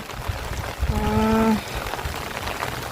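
Rain falls at a Buddhist temple with a steady, close patter across the whole stretch, and a brief tonal hum rises over the downpour midway before fading.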